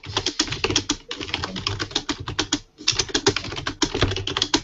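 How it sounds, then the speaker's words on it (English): Fast, loud typing on a computer keyboard, a dense run of close clattering keystrokes with a brief pause near the middle, carrying on steadily without speech. "that's someone typing loud"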